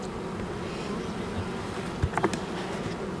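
Honeybees buzzing around an open hive after swarming, a steady faint drone of many wings throughout with a few brief louder passes close by near the end.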